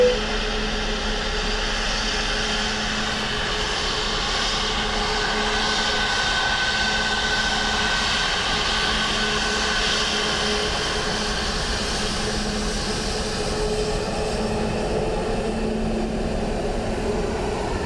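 A Qatar airliner lands at Dublin Airport in low visibility, its engines a steady, broad roar with faint whining tones that holds evenly throughout, heard from a distance with no talk.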